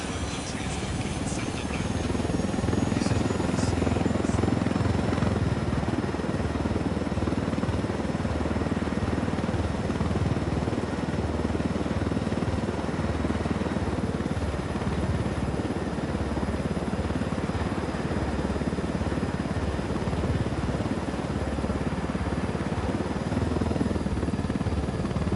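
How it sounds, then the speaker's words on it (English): A game helicopter flies continuously with a dense, steady rotor and engine roar that fills the whole stretch at an even, loud level. "We can leave the chopper here and the rebels will pick it up"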